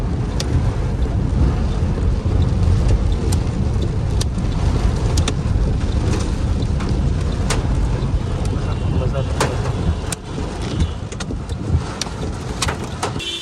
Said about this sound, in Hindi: ओ जी ओले लगे हैं गाड़ी को।